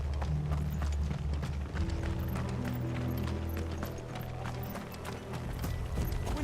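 Horses gallop in the Final Fantasy XVI video game, steady rhythmic hoofbeats over a continuous low rumble of game music and ambience, loud and sustained throughout.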